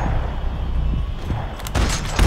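Gunfire in the shooter game Max Payne 3, loud dense bursts of shots and booms crackling continuously, ending in a heavier blast.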